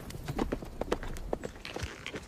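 Hooves of horses clip-clopping in rapid, uneven beats, loud and close as horse archers ride in a galloping rush.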